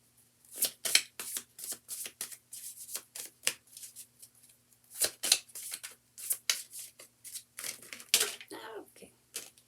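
A deck of stiff tarot cards is shuffled by hand in quick, uneven bursts of riffling and snapping, with short pauses between shuffles.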